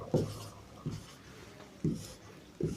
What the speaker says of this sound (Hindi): मैं हिंदी में भी लिख रहा हूँ